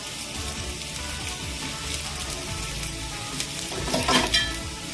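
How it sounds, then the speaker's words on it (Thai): Garlic stir-frying in hot oil in a pan sizzles steadily and close, with scraping stirs and a brief watery splash near the end. "จากนั้นก็เริ่มผัดนะครับ"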